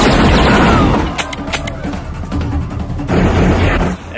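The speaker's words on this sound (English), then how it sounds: "So both Van Damme's men and Rourke's men start firing at each other" Film shootout with two groups of men firing at each other: loud, dense gunfire and booming blasts at the start and end, with scattered sharp shots and muffled noise between.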